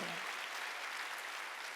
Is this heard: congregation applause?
yes